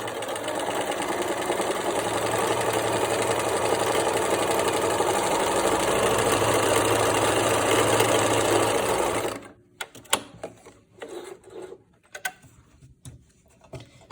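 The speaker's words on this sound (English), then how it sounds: "This time we're sewing all the way across." A sewing machine runs a scant quarter-inch seam all the way across a two-color fabric face mask, a steady close whirring drone for about nine seconds before it stops, leaving a few faint handling clicks.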